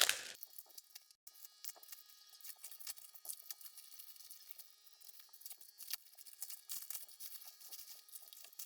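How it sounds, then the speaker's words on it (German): Crinkling and tearing of wrapping as a cured bio-resin composite plate is unpacked: a sharp rustle at the start, then a steady run of soft, close crackles and crumples. "Jetzt kann unsere Platte ausgepackt werden"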